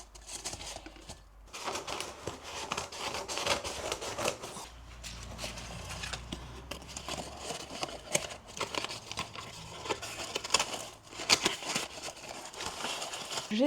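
Scissors cut through cardboard and crinkly packing paper during packing before a holiday, giving close, busy rustling, snipping and crackling that runs steadily throughout with no talking.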